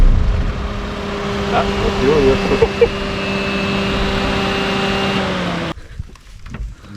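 A car's new, freshly fitted engine runs steadily with a low hum and a faint whine, close by in a garage where wheels are being tightened, then cuts out near the end; a voice speaks briefly over it.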